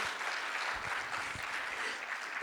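Fairly quiet, steady clapping from an audience in the Darbar Hall during a literary conversation event, a continuous patter without voices that swells slightly at the very end.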